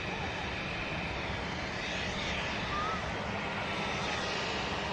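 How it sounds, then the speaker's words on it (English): Jet engines at Manchester Airport rumble steadily as a KLM Embraer E2 sits pushed back and ready to taxi, a continuous broad roar heard from a distance with no break. "the KLM Dutch Pride E2 is also now pushed back and ready for taxi"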